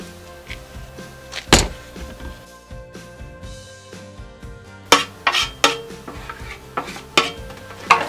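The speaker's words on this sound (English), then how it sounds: "we'll use the good old KitchenAid to mix it up" A KitchenAid stand mixer churns ground Italian sausage meat in its bowl. A low motor drone runs under irregular sharp clanks and thumps as the meat slaps the bowl. The knocks grow busier toward the end.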